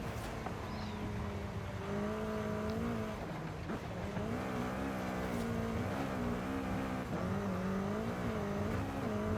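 A Volkswagen Golf drives in the Forza Horizon 5 racing game, its engine holding a steady drone with gentle pitch rises and dips as it shifts and accelerates, moderately loud and constant with no talk.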